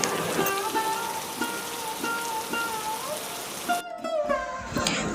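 Rain falls steadily on surfaces outdoors with close dripping and splashing, while a bird calls in repeated short tones over the patter.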